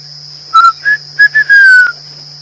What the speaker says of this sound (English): There's a couple of them calling, fiery neck nightjars.